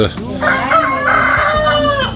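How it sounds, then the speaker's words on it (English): A rooster crows loudly and close, one long drawn-out call that rises and holds before trailing off. "And I've got a crazy rooster."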